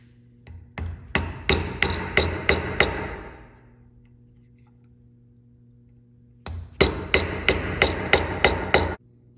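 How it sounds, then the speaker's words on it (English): A chisel is struck with a mallet to cut a mortice in wood for a wedged mortise-and-tenon joint. About six sharp, evenly spaced strikes come first, then a pause, then a second burst of seven or so loud, close raps. "I'm now going to angle my chisel like this so that the beveled part of my chisel is now vertical"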